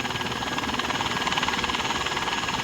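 A video game helicopter gives a loud, continuous rotor thump with a steady rhythmic chop and engine whine, close and unbroken, with no talking.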